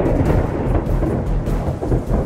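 Thunder rumbles heavily over steady pouring rain, close and loud throughout a short stretch, conjuring a dark, rain-soaked night in a Bengali suspense audio drama.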